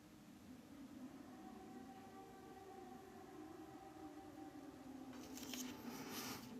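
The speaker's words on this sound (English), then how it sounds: "There's the air raid siren." A distant air raid siren wails faintly at midnight in Kyiv, its steady tone drifting under low background rumble and hiss, with a brief burst of noise near the end.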